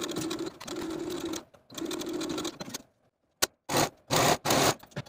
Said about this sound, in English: We're going to take it to our sewing machine and sew as pinned from this inner dot to the edge of the garment